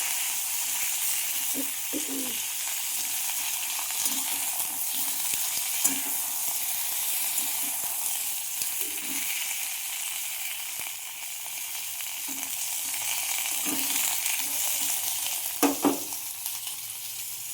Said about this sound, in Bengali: শিমটা আমি এখানটায় ভেজে তুলে রাখবো, হালকা ভেজে।